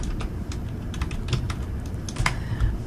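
Typing on a computer keyboard while plotting data, with a steady patter of close, crisp key clicks and a few louder taps, no talking.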